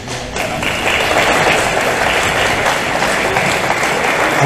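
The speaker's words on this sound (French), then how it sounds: "vous m'applaudissez d'avance" Audience at a municipal gathering applauds a councillor, thick continuous clapping from a sizeable crowd, loud and close, holding steady throughout with no speech over it.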